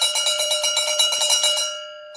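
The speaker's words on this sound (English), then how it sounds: "Now I'm going to ring the bell" A hand bell rung in rapid, steady strikes, its bright metallic tone piling up in quick succession before the ringing stops and the last note fades out alone.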